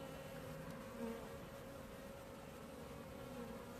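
Honeybees from a hive frame buzzing in a steady, faint drone with a slight rise and fall, a soft continuous hum with no voices.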